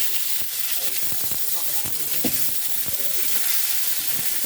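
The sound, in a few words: sautéing food in a pan over charcoal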